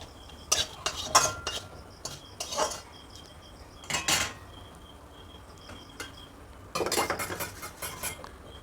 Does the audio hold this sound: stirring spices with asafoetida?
yes